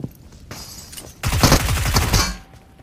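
Gunshots in a video game, a few scattered shots followed by a loud, dense burst of rapid fire that fades out, close and punchy.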